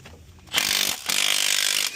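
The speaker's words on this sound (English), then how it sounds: "this 3/8 impact will break these off" A 3/8-inch impact gun breaks loose bolts on a DD13 engine's fuel injection pump. It fires in two loud, close, rattling bursts with a short pause between them.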